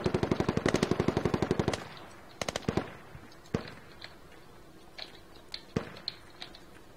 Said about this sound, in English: They definitely have a fob there, there's a machine gun.